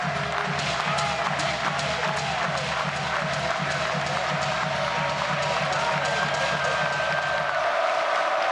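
A large baseball crowd at an NCAA regional final between Oregon and Oregon State rises and cheers loudly and continuously after a foul ball, a dense roar of voices with scattered clapping filling the whole stretch before it drops off near the end.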